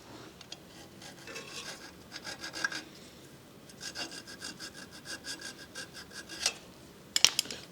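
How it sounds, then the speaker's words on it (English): A square metal file scrapes a burr off a cut key in rhythmic back-and-forth strokes, close and fairly quiet, in two bursts of rasping followed by a couple of sharp metallic clicks. "Let me get a file."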